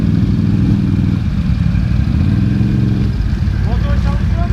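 An ATV engine idles and runs close by on a tour at Horseshoe Valley, Ontario, after its clutch has burnt out, giving a continuous low rumble with some rattling while people talk over it.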